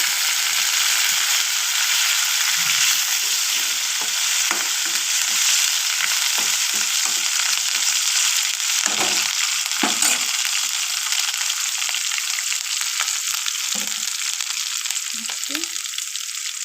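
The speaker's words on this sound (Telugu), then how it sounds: "కర్రీపాకు వేసుకుంటున్నాను వేసుకోవడం వల్ల మంచి ఫ్లేవర్ అనేది వస్తుంది" Curry leaves crackle and sizzle loudly in hot oil in a pan while a tomato and broad bean curry is cooked, a steady bright frying hiss with scattered pops and occasional stirring scrapes, close up with no talking.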